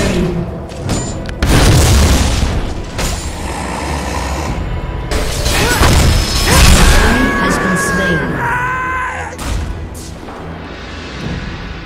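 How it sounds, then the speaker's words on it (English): A heavy structure explodes and crumbles in a League of Legends match, with deep booming crashes and rumbling debris in several loud bursts, under game effects and announcer voice lines. "Your team has destroyed an inhibitor"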